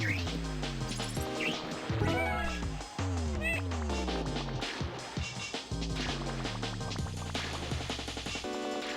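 Cartoonish cat meows repeat in quick sequence amid clattering crashes and chaotic bowling sounds in a PS1 bowling video game, loud and busy throughout.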